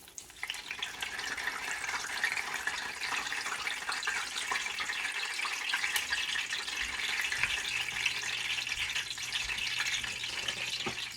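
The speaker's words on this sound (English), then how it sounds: "Pops when it hits the grease, you know it's hot." Hot frying oil in a pan keeps up a steady close sizzle dense with small crackling pops, running unbroken and without talk.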